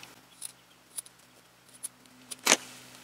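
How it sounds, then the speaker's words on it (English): Scissors cutting down the middle of a sheet of paper, a few soft, separate snips spread out over a few seconds, close and quiet, ending in one louder, crisper cut. "Let me cut this down the middle."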